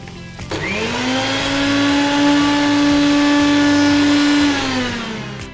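A mixer grinder whirs loudly as it grinds ingredients into a fine powder for a chicken dish, spinning up after a brief start and holding a steady high-pitched whine before winding down, with no talk.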